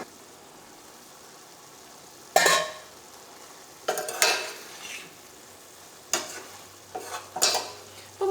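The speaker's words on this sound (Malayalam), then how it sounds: "മുരിങ്ങക്കായ നമുക്കൊന്ന് ഇളക്കിയിട്ട് കൊടുക്കാം" Drumstick pieces are stirred in a cooking pan in four scraping bursts, with a spoon rasping against metal over a soft sizzle, close and clear with no talk.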